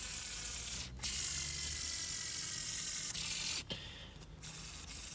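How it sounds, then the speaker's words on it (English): Mini Loophole ring spinner toy spinning with a slight grinding: a quiet, continuous hissy whir with brief dips and clicks where the spin is interrupted. "This has a little bit of grinding and a little bit of feedback."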